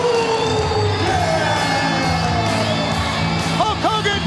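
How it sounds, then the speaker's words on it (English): A wrestling arena crowd roars in a continuous, dense wash of cheering and shouting after a Hulk Hogan versus Ric Flair match ends, with scattered whoops rising above the din. "Listen to the crowd."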